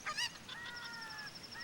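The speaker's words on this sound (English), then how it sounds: "if the chicken falls off, you can just leave it and come back in the area to respawn him" A chicken in Ocarina of Time gives a few short honking clucks, followed by faint tonal game sounds, soft and without speech.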